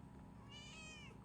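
A house cat gives a single soft, drawn-out meow, faint and somewhat distant over a low steady background hum.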